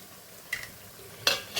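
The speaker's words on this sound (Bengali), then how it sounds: "দিয়ে বেশ ভালো করে কষিয়ে নেব মশলাটা" A spice masala with red chili powder, cumin and Kashmiri chili is stirred as it fries, giving a soft low sizzle broken by a few sharp scraping clinks of a utensil against the pan.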